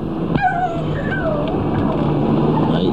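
A dog gives short, high yelps and whimpering yips, several sharp cries spread across a few seconds, heard fairly close over a steady background.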